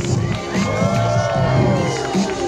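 A lively crowd at an outdoor bike stunt show cheers and whoops, with shouting voices and high excited yells blending into a continuous loud roar.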